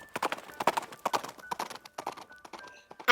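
Horse hooves clip-clop as a sound effect, a quick uneven run of sharp, close knocks at a trotting pace, with no talking.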